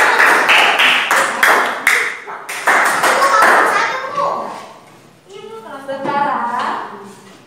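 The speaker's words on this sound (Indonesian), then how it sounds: "Yuk berikan tepuk tangan buat kelompok 3." Fifth-grade children in a classroom clap for a discussion group, several strong rhythmic claps at first that thin out and give way to children's voices.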